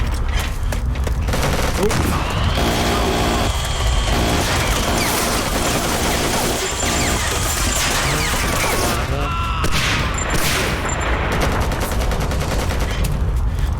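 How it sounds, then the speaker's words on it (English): A minigun fires in a video game, with continuous loud, dense gunfire and explosions filling the whole stretch and a voice faintly underneath. "Oh yeah, I do have a mini gun."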